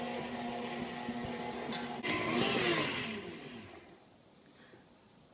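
An electric mixer whirs through pound cake batter as eggs are beaten in, a steady motor hum that grows louder midway and then winds down to a faint whine.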